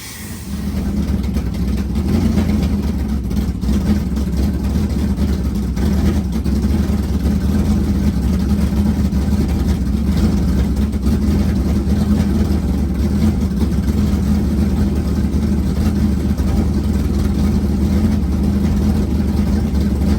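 A vehicle engine cranked up after washing runs at a steady idle to dry out, a continuous loud low rumble close by with no voices.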